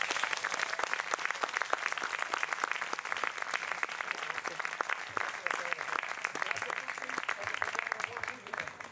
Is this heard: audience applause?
yes